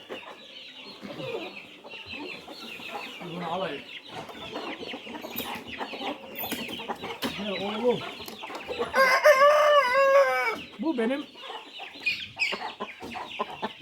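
Roosters and fowl cluck and crow in a farm yard, with several raised crows in the middle and constant clucking throughout, while someone talks nearby under the birds.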